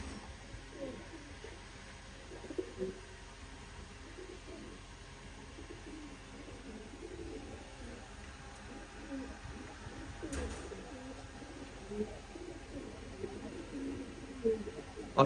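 Tournament pigeons, among them Jabra and full-Jabra breeds, coo in soft low repeated bursts through a steady background murmur, with a faint voice now and then.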